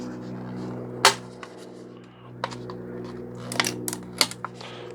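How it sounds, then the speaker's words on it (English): Sharp snipping clicks of scissors cutting the edge off a plastic cup, scattered irregularly over a steady low mechanical hum. "I take a pair of scissors and I cut just the edge off."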